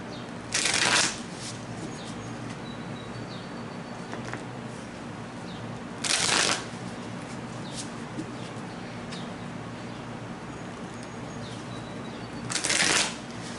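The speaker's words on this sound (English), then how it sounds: "let's go ahead and shuffle so that we can get you a few cards out" Tarot cards are shuffled in three brief, crisp bursts spread several seconds apart, with quiet room tone in between.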